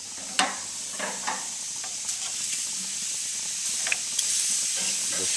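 Instant ramen with shrimp sizzling on a grill and being stirred, a steady steamy hiss punctuated by several sharp scraping clicks of the utensil, fairly close.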